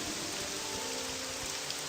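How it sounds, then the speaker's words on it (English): Rain in the Morrowind game falling as a steady, even hiss of drops, continuous and fairly loud with no talk. "And it's still raining. Damn rain."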